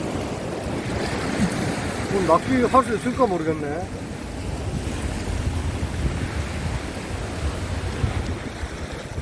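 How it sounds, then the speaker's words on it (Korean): Rough sea waves break against the coastal rocks at Adeul Rock in Jumunjin, Gangneung, in strong wind: a dense, steady roar with gusty wind noise on the microphone, while someone talks over it. "파도가 막 위에까지 올라치네."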